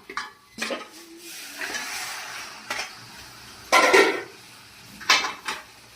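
Chicken being stirred into masala in a metal pan for a chicken curry, with several distinct scraping clatters of the spoon against the pan at irregular intervals, close and fairly loud, no talking.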